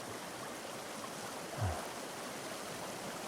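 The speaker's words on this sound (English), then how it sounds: "The water rushes below." Stream water rushes below a bridge as a soft, continuous hiss, fairly faint and steady, with one brief low thump partway through.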